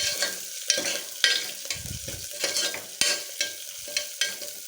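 Dried red chilies fry in hot oil in a pan, with a light crackling sizzle. A spoon scrapes and stirs through them in repeated strokes, all close and clear with no voice over it.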